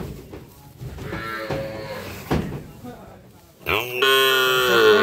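A Sahiwal bull calf bellows loudly near the end, a drawn-out moo following quieter shuffling and a few brief voices, on a cattle farm in Noakhali.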